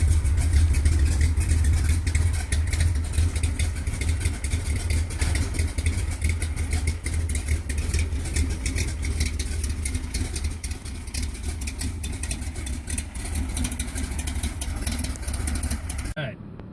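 Loud, rough car engine idling with its exhaust removed, a steady low throbbing rumble running continuously throughout, close by, after a G8 bushing install.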